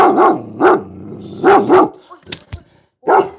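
A dog barks in loud bursts, two barks, then a quick double bark, a pause with small noises, then one more bark, all close by.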